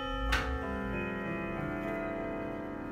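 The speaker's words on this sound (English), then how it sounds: "Nice deep sound to this clock." A Sligh 0846-1-AN grandfather clock with a lunar calendar dial gives a loud, resonant tick near the start, then steady deep ticking carries on with a lingering metallic ring, close and alone.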